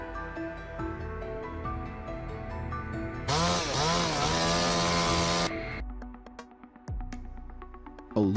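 A chainsaw cuts into a tree, the engine revving to a loud, steady high whine for a couple of seconds before dropping back to idle, with background music running throughout.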